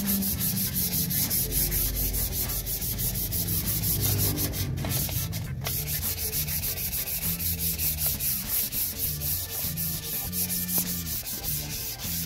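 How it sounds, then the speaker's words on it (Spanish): Continuous rhythmic scraping of 500-grit sandpaper rubbed back and forth over a motorcycle wheel rim, close and steady throughout, with no talking. "ahora vamos a lijar todo el aro con nuestra lija 500"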